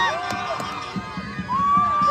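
Crowd at a 26 January friendship-cup cricket match between Kalyan Bhoiwada and Bhiwandi Bhoiwada cheering and shouting in celebration, with whoops, whistles and voices blending into a loud, continuous roar.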